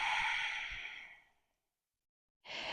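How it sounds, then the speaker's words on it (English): A long breath out during a hip and hamstring yoga flow, a soft airy sigh that fades into silence before the next breath begins, close-miked with no talking. "And then exhale"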